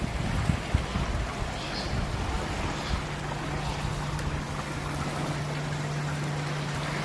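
Water pours steadily from a return line fed by a submerged pump into a fountain basin, a continuous close rushing and splashing that stays even throughout, with a low motor hum joining partway.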